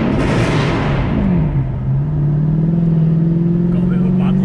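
A Mercedes C63 Black Series engine is revved hard in neutral, roaring up at close range before the note falls and settles into a deep, steady idle rumble.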